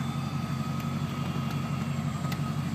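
A 1992 Corvette convertible engine idling, a steady low rumbling drone with an even pulse, close and continuous, with a few faint clicks over it and no talking.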